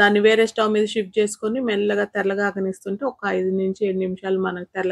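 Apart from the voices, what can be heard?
No everyday noises stand out.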